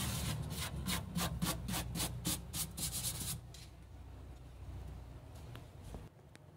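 A car trunk lid is sanded by hand, a rapid rhythmic rubbing that scrapes back and forth in strong strokes for about three seconds, then gives way to quieter, sparser scuffing and faint handling noises.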